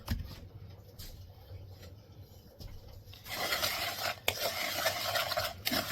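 A spoon works sugar into melted butter in a bowl, a soft, gritty scraping that starts quiet and grows fuller and more continuous in the second half.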